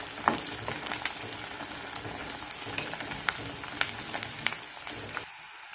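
Garlic sautés in hot oil, a continuous dense sizzle and crackle with scattered sharp pops, close by and steady until it cuts off near the end.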